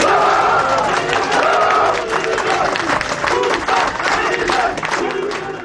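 Applause and crowd noise fill a CHP provincial party meeting in Bursa. Steady clapping mixes with a voice speaking over it.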